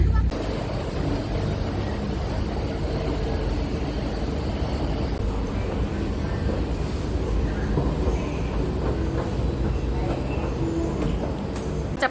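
A steady, loud rumble of a moving subway carriage departing from Hongdae, with constant low roar and hiss throughout and no clear voices.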